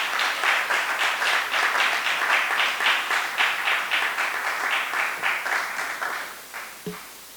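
Audience at a worship music event applauds with steady rhythmic clapping from a crowd in a hall, fading toward the end.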